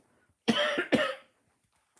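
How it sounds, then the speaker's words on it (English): Two quick, close coughs in a row, harsh and breathy, followed by quiet. "Excuse me, I'm going to cough."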